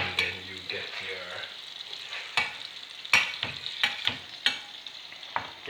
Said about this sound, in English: melt that butter out